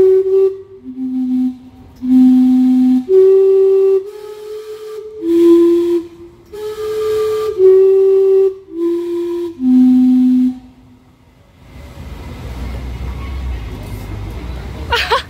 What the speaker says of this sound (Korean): 밤 증기시계도 봅니다.